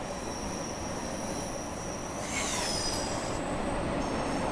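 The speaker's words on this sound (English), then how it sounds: "It's a tube train." A London Underground tube train on the Bakerloo line near Harlesden in the railway simulator game Train Sim World 6, a steady rolling rumble with a brief high wheel squeal partway through as it passes.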